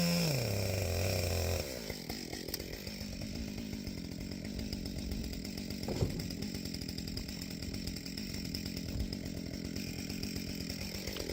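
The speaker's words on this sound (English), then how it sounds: "you have to sort of cut through them, and it's easier to do that with a chainsaw" A chainsaw cuts through knotty softwood fir for firewood, a loud continuous engine roar after a brief higher idle at the start, steady throughout with a slight bump midway.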